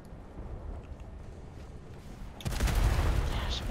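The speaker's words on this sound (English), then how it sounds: "I'm about to broadside it" Ship cannons firing a broadside from a galleon in the game Atlas: a quiet rumble, then at about two and a half seconds a loud burst of overlapping booms rolls on as a sustained, rumbling barrage.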